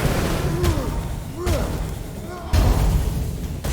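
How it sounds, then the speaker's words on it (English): An explosion in Curse of the Dead Gods lands among heavy combat impacts: three loud, deep thuds with swishing tails, roughly a second apart, while someone talks over the action. "Didn't want the explosion to kill him."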